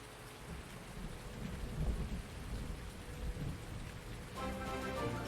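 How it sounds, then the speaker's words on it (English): Thunder and rain from a lightning strike in Farming Simulator 19 play as a steady, faint downpour hiss with low rumbling thunder rolls building and easing throughout, with no talk over it. "We're gonna get a lightning strike soon."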